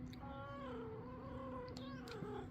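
A faint, drawn-out cat meow with a wavering pitch, followed by a quieter second call over a low background hum.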